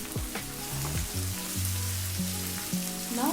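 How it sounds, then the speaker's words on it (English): Chilies fry in a hot pan for a Southern-style mustard greens dish, with a continuous crackling sizzle and bright popping tones close by at moderate loudness. "As soon as you smell the aroma, you can add chilies. Fry them for few minutes."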